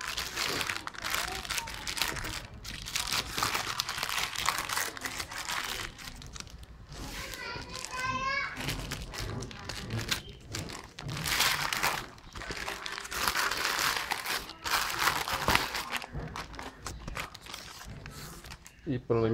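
A poorly packed shipping package from an online store is torn open, with continuous close crinkling, ripping and rustling of packaging while someone talks and children's voices sound in the background.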